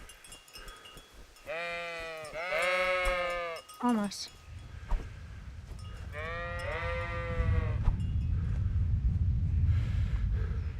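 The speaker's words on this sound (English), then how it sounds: "Can I punch the sheep?" Sheep bleating in the video game Kingdom Come: Deliverance: two wavering bleats in quick succession, another brief one, then a later bleat over a low rumbling background, while someone briefly speaks.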